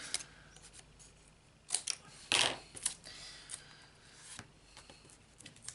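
Scissors snip through the excess paper or card on a handmade notepad holder booklet, a few short quiet crisp cuts clustered in the middle, close and alone in a still room.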